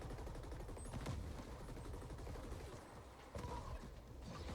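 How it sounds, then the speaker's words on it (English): Shotgun fire and combat in the sci-fi action game The Ascent: a dense, continuous wash of game gunfire and mechanical effects, with a few sharper blasts standing out, at a fairly low, even level. "Shotgun, yeah."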